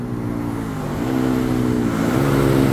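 A Yamaha R15M V4 motorcycle with a remapped stock ECU and quick shifter revs close by, its engine tone climbing, dipping briefly at a shift, then rising again on a wet road.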